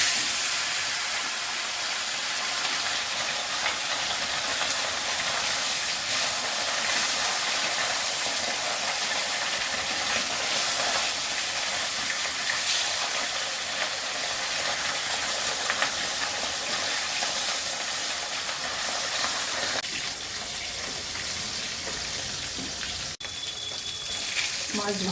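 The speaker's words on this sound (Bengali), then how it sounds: "প্রথমে মাছগুলো ভেজে নিচ্ছি।" Fish frying in mustard oil in a home kitchen gives a continuous broad hiss and crackle throughout, steady and fairly close, with small shifts in texture near the end.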